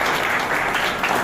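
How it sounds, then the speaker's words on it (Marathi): A hall audience at an Independence Day gathering at a de-addiction centre breaks into applause, a dense, steady wash of many hands clapping that continues throughout. "एकदा जोरदार टाळ्या आमच्या सुहास साहेबांसाठी"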